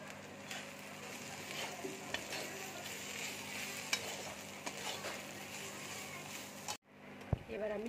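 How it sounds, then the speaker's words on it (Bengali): Spices with turmeric and Kashmiri chilli powder frying in a pan, a steady quiet sizzle with intermittent stirring scrapes and a brief clatter near the end, nearby and without speech. "এবার ভালো করে ভেজে নেব।"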